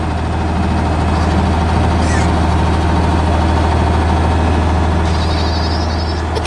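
A big green animated combine harvester cutting wheat drones with a steady, loud engine hum throughout, with brief faint higher noises near the middle and end.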